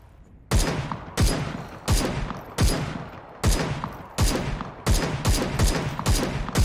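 Loud gunfire in a PUBG-like battle royale shooter, roughly a dozen sharp single shots with short echoing tails, fired at a slightly quickening, irregular pace and heard alone without talking.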